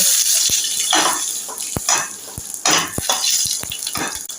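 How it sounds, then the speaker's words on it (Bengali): Mustard seeds tempering in hot oil left from frying fish, sharp pops and spits scattered irregularly over a hissing sizzle, close, with occasional clinks of a utensil against the pan. "মাছ ভাজার তেলের মধ্যে আমি সর্ষে ফোড়ন দেব, দুটো শুকনো লঙ্কা দেব,"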